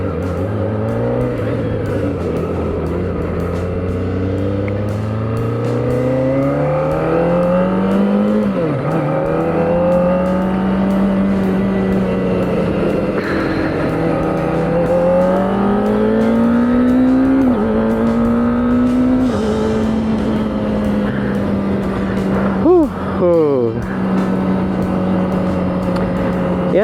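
Kawasaki ZX25R motorcycle engine while riding, a steady high whine that rises and falls through gear changes, with a sharp rev spike near the end, loud and close throughout with no talking.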